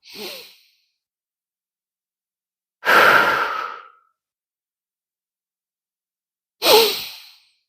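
Deep breathing during a beginner mat exercise: three separate, close, audible breaths, each a soft rush of air lasting about a second, separated by stretches of silence.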